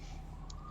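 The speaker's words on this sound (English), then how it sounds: "obnoxious sirens" An emergency vehicle siren wails steadily throughout, loud and continuous over low rumbling road noise.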